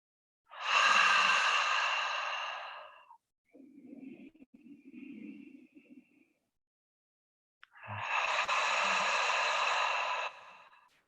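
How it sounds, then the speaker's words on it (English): Deep breathing during a seated chair yoga session: a long, airy exhale, a quieter inhale through the nose, then another long exhale, close and calm with no talking. "take a couple more deep breaths here"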